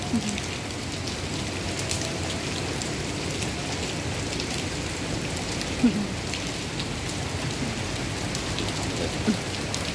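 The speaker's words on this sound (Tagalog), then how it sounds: "Maulan." Rain falls steadily outdoors as a dense, even patter with a few louder drops, no voices.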